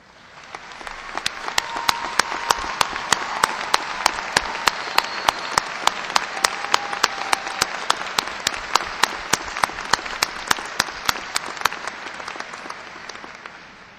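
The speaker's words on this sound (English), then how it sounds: "would all of the graduates who are the first in their family to graduate please stand for a round of applause." Audience applause at a graduation ceremony: fourteen seconds of sustained, dense clapping from a large crowd, with one pair of hands close by beating a crisp, regular rhythm above the wash before it thins toward the end.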